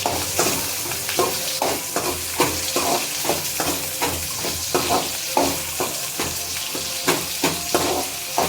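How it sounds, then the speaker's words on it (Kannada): Paneer rice frying and being stirred in a pan, a steady close sizzle broken by regular scraping strokes of a spoon roughly every half second throughout. "ಫ್ರೈ ಆಗಬೇಕು ಚೆನ್ನಾಗೆ"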